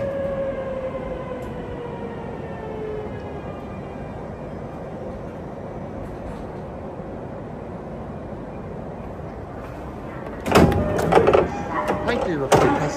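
A train runs steadily on the line at a station in Japan, with a falling motor whine and a low rumble, and then a louder clatter of doors and movement near the end.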